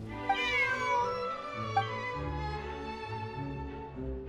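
A cat meows repeatedly in the Lynette Hangout video game, with clear tonal mews over a low, steady game music background.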